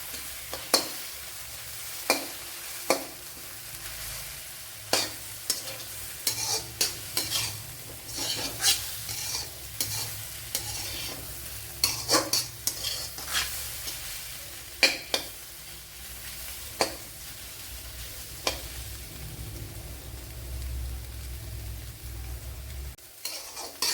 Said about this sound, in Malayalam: അപ്പോഴിനി ഇതുപോലെ ഒന്ന് ഇളക്കി കൊടുക്കാൻ ഉണ്ടല്ലോ